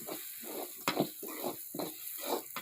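Roasted curry leaf powder sautéed in a pan, heard as a soft sizzle with a few rhythmic stirring scrapes, close and fairly quiet, with no voices.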